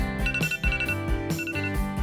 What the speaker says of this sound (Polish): A, co to? A, budzik.